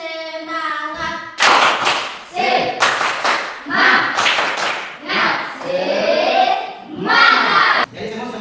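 A standing classroom group does a rhythmic spirit clap in Indonesia, with a spoken count-in followed by bursts of sharp, unison claps and thuds mixed with shouted voices, loud and close.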